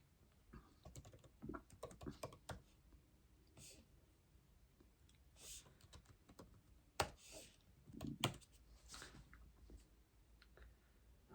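Code is typed on a computer keyboard in soft, quiet bursts of rapid key clicks separated by pauses, with faint low murmuring in places.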